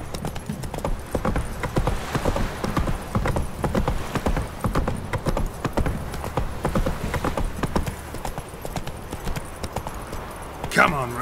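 A horse gallops in The Witcher 3 video game, its hooves beating a quick, steady clip-clop rhythm throughout, with game sounds and a voice mixed in.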